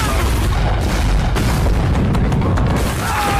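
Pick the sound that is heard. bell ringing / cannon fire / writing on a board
cannon fire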